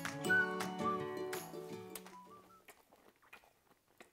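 Someone eats sausage kimbap made with Gimpo gold rice, with soft, sparse chewing clicks and crunches up close after a brief musical opening.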